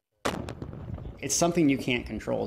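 A single sharp, firework-like boom resembling mortar or artillery fire cracks out at the start, quickly followed by someone talking.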